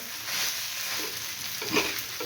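Egg bhurji stirred on a hot tawa, a steady soft sizzle with scraping spatula strokes, close and fairly quiet, no voices.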